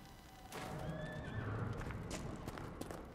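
A horse in the Dragon Age Inquisition video game lets out a clear, loud whinny over a steady bed of clip-clopping hooves and ambient game sound.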